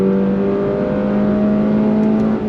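A 2025 Toyota GR86 engine pulls hard toward 7,500 RPM, a loud, close, sustained engine note that climbs steadily in pitch through the whole stretch.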